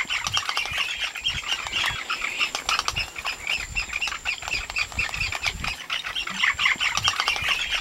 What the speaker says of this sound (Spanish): albergan abundantes colonias de aves, entre las que destacan las garzas y las fragatas